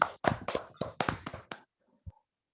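A handful of separate hand claps, about seven or eight close and loud, in an uneven run, then a short pause and one last faint tap, from a small group at a Toastmasters club meeting.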